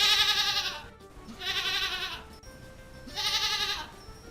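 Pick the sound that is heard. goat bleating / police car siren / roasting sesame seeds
goat bleating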